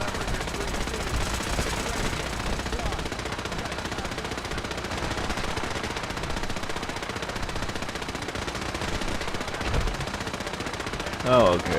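Rapid automatic gunfire at a firing range in Fallout 4, sustained bursts of rattling shots running nearly the whole time, loud and close, with a sharper report near the end and no voices over it.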